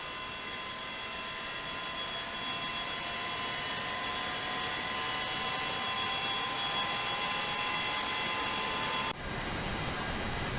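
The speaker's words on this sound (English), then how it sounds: "That gives us 3 good engines popping back here." Boeing 727 jet engines idling in a flight simulator game, a steady whining roar with sustained high tones and a faint slow pitch drift, continuous and fairly loud until an abrupt cut near the end.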